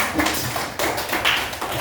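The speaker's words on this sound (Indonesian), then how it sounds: "Tepuk tangan dulu untuk kita semuanya" A class of students claps their hands in a classroom, a short, busy burst of overlapping claps at close range with no talk over it.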